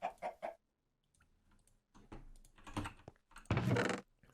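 Minecraft chicken clucking in a couple of short bursts at the start, followed by scattered game sounds and a louder burst of activity near the end, with no voices.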